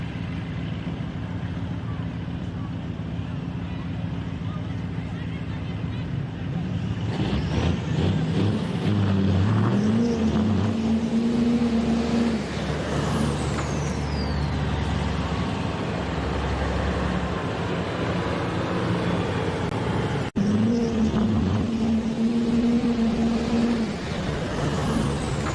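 Peterbilt semi truck and a Duramax pickup in a dirt drag race, engines roaring loud and close as they launch and pull away, with rising tones and a sharp hiss partway through, crowd noise underneath.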